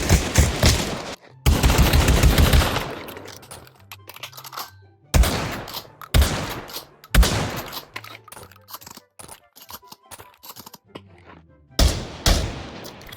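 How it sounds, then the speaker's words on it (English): Modern shotguns firing in Pavlov VR, a series of loud, separate blasts with pauses between them, interspersed with mechanical pumping and reloading clicks, no talk. "All the modern shotguns have some nice new sounds to them as well"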